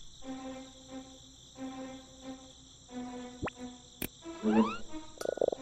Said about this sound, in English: There's a frog.